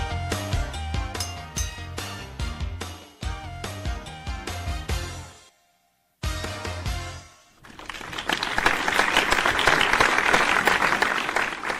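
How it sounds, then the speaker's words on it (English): On a morning radio show, a musical jingle plays in short punchy bursts, cuts out briefly, then gives way to a loud canned applause sound effect, a thick crowd-clapping roar that swells and holds steady to the end. "Nothing like starting off the day with some fake applause"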